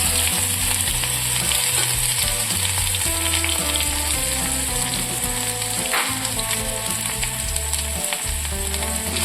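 Ginger paste fries in hot oil with whole garam masala and bay leaves, a dense, loud, continuous sizzle with bubbling crackle and occasional stirring knocks against the pan, no one speaking.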